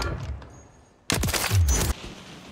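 XRK Stalker sniper rifle fire in Warzone 3, a loud sharp report with a booming tail lasting under a second, standing out after a quieter stretch of game ambience.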